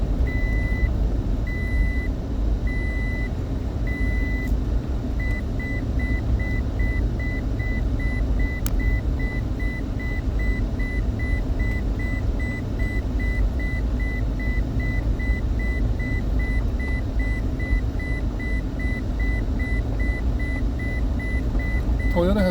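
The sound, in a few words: Toyota car seatbelt alarm beeping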